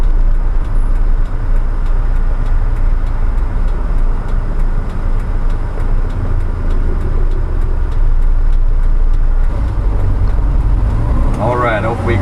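A 1985 Toyota LiteAce CM21 truck with a 4K-J 1300cc engine drives and makes a U-turn, its engine a loud steady hum with road noise from inside the cab, and a voice speaks near the end.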